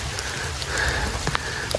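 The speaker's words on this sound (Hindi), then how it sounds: "बारिश फिर इंतहाई शदीद शुरू हो गई है" Heavy rain falls on a forest hiking track near Nathia Gali, a steady broadband wash with scattered nearer drops and taps, continuous and fairly loud with no talk.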